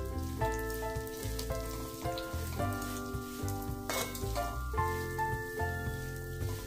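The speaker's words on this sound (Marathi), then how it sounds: "पिस्ता, हे थोडं 2-3 मिनिट मी तुपावर परतवून घेते।" Pistachios roast in ghee in a pan for Indian methi ladoo, giving a soft, steady sizzle, though quiet and partly masked by sustained tonal background sound.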